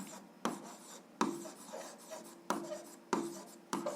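Pen scratches across paper while an algebra exercise is worked out, a series of short strokes with sharp onsets roughly every second, close and quiet, with no talking.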